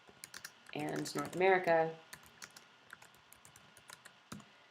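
Rapid typing on a computer keyboard, steady close clicks pattering throughout, briefly overlapped by a person speaking before the keystrokes continue alone.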